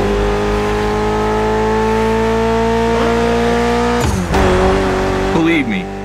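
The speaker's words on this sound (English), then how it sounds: "Mitsubishi gave us a nice inline 4-cylinder with already 280 horsepower that are gonna turn up a bit." A Mitsubishi inline four-cylinder rated around 280 horsepower in the racing game The Crew Motorfest holds a steady, loud drone, then shifts abruptly near the end with a brief rev change and a tire squeal.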